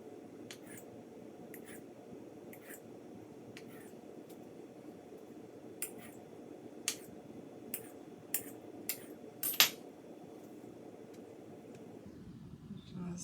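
A knife cuts a block of tofu into cubes on a silicone mat, giving a series of sharp, light taps that grow more frequent and a little louder over a steady background hum.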